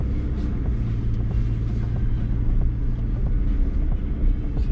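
A Range Rover L322 TD6 diesel driving through deep forest puddles in winter, a steady low engine rumble with sloshing water, continuous and close.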